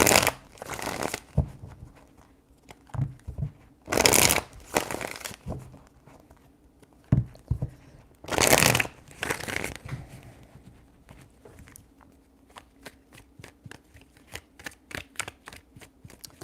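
Tarot cards shuffled by hand in several quick riffling bursts, then softer scattered flicks and taps, close and fairly quiet, with no talk over them.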